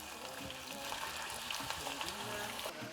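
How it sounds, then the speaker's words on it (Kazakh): Potatoes frying in hot oil in a pot, a steady close sizzle and crackle with faint stirring scrapes throughout. "Жабыстырмай, езбей, қызарғанша қуырамыз."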